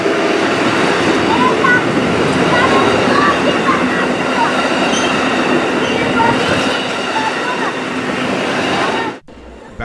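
A steam-hauled excursion train rolls through Niles Canyon with a loud, steady rumble of wheels on rails and faint squeals, heard close aboard before the noise drops away abruptly at the end.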